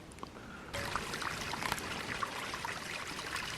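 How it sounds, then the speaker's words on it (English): Water of Kellen Creek, a salmon stream in the woods, flowing and trickling steadily at close range, a continuous broadband wash that rises in strength after a brief quieter opening. "but this is a salmon stream. This is Dogfish Creek. Or no, not Dogfish, Kellen Creek."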